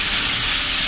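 Several kinds of fish, including sea bream and a broad flat fish, fry in a large pan filled with oil, giving a steady, dense sizzle that holds evenly for the whole moment with no voices.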